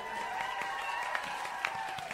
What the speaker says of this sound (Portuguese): Uma salva de palmas aí, geral,